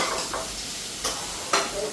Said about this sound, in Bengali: এদিকে আলু আর সয়াবিন ভাজি।